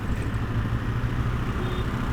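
A Honda NX500 motorcycle engine lugging at low speed in fourth gear at about 25 km/h, a steady low throb with no surges, mixed with wind and road rumble.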